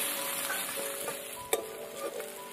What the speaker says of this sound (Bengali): বেগুনগুলোকে কিন্তু হালকা ভাজতে হবে, বেশি ভাজতে হবে না